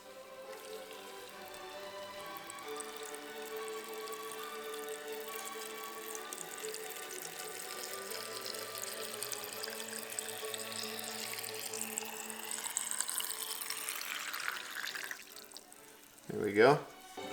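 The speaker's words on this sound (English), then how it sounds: "Submerge in clean drinking water." A steady stream of clean drinking water pours into a fermentation container of vegetables for a long stretch, the tone slowly rising as it fills, ending with a brief clunk.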